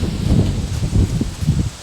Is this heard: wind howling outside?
yes